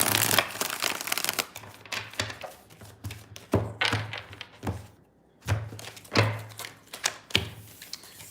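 A deck of tarot cards is shuffled by hand in close, dry bursts of riffling and tapping, arriving in irregular clusters separated by short pauses.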